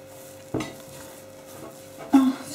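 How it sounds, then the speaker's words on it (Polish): Yeast dough for a Kujawiok-style babka kneaded by hand, giving two soft, sticky slaps about a second and a half apart over a quiet room, with no talk. "Teraz wyrabiam ciasto rękoma."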